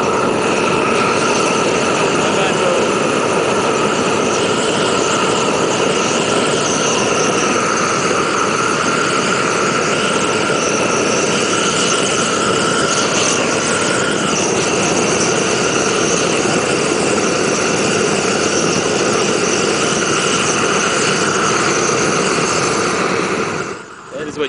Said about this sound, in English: Now we're going to torch the other side.